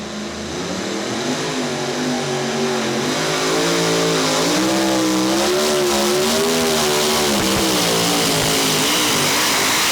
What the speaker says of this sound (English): Danny Lusk out of Altamont, Tennessee, the Ford body truck called the Tennessee Wild Child